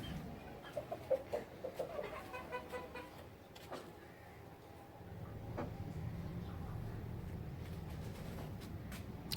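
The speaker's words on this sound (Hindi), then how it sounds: "ये मुर्गियां देखें माशाल्लाह" A Shamo or Aseel chicken clucks in a quick run of short rhythmic bursts, then a steady low rumble of passing traffic takes over.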